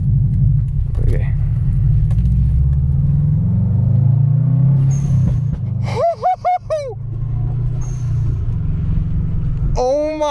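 A Subaru WRX with an HKS blow-off valve sits under a steady low rumble, then gives a few short throttle blips about two-thirds of the way through, each followed by a sharp whooshing release. A voice talks over the engine.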